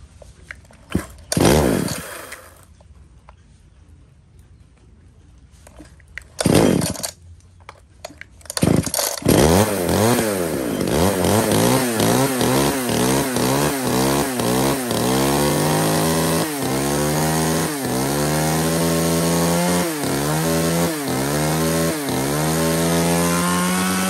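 Small, lightweight Tanaka chainsaw, a used Japanese-market unit, is pull-started with a couple of short bursts and then roars to life, revving up and down repeatedly at close range, loud and without speech.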